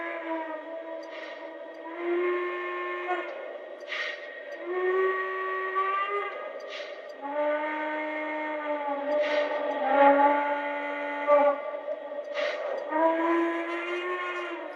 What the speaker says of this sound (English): So those are the 5 whistles.